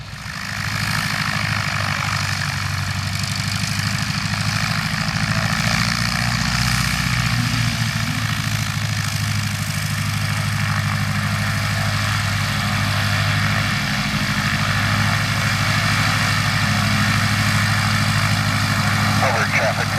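A light propeller airplane idles steadily at a small-airfield fly-in before departure, a constant loud engine drone running throughout while people talk nearby.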